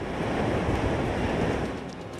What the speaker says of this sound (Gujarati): ઉકાઈ ડેમમાંથી પાણી છોડાતા વિયર કોઝવેમાં પાણીનો મોટો પ્રવાહ વહેતો હોય તેવા દ્રશ્યો સામે આવ્યા।